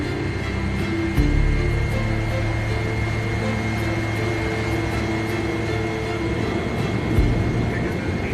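A Qantas airliner is pushed back at the gate for takeoff. Its engines and ground equipment give a steady, loud mechanical drone with a low rumble, and a voice speaks faintly beneath it.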